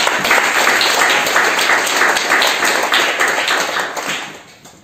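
Audience at a church seminary session breaking into applause, dense rapid clapping that holds strong for several seconds before fading out toward the end.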